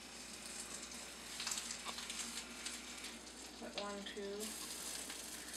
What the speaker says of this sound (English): Place these onto the brown butter.